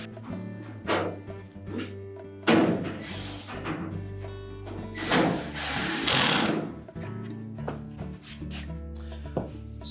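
Screw being driven back into a support bracket with a power tool, several short whirring bursts separated by pauses, with some rubbing and handling noises in between.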